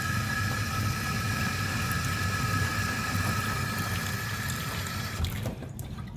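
Water running and draining in a stainless steel kitchen sink, a steady close rushing gurgle that continues evenly before tapering off at the end, with no talking.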